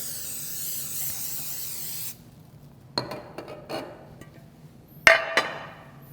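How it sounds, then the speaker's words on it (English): A steady hiss of nonstick cooking spray onto a baking pan runs for about two seconds, followed by a few clinks and knocks of metal and glass. "I'm going to spray a baking pan with nonstick cooking spray"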